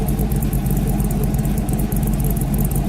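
Exhaust of a Chevrolet 5.3 V8 (Gen V L83 swap) with a Texas Speed Stage 2 cam and MagnaFlow mufflers: a deep, steady, loping burble, close by and uninterrupted.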